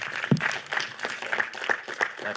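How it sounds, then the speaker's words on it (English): An audience applauds at a live event, a steady spread of many hands clapping that carries on evenly for a couple of seconds at moderate loudness with no voices above it. "Give a round of applause to Ipshita"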